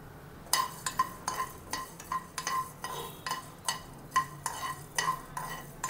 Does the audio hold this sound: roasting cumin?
yes